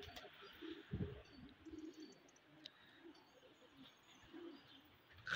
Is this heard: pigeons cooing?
yes